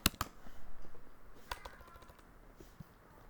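Someone types on a computer keyboard while entering patient investigations into a health record system, making a few sharp clicks followed by a quiet patter of keystrokes, close and fairly soft, with no voices.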